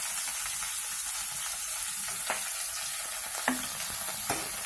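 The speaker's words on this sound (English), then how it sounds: "just by using a turner just give it a mix" Chopped garlic frying in a pan while a turner stirs it, a soft steady sizzle with a few sharp scrapes and knocks of the turner against the pan, close and alone.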